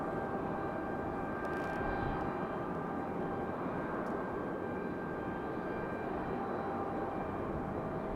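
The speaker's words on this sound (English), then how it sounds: "Our next one is American Airlines. 2693 coming in from Dallas Fort Worth on an A321-200." An American Airlines Airbus A321-200 jet arrives at Raleigh-Durham airport, its engines a steady, broad roar with a faint whine that holds fairly level throughout.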